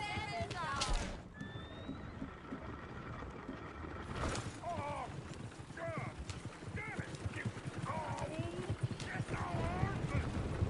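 Horses in Red Dead Redemption 2 neigh and whinny several times over galloping hooves and a steady background rush, with voices talking throughout.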